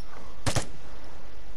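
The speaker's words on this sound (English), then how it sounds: "we're getting shot at from our right as well" Two quick gunshots close together in the PS4 shooter Vigor during a PvP encounter, fairly distant over a quiet background.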